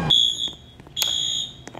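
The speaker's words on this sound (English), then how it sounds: "Or you pulled that alarm right there." Alarm ringing in the Roblox game ERLC, a high electronic tone sounding in two sustained bursts with a short gap between them, loud and close with no talk over it.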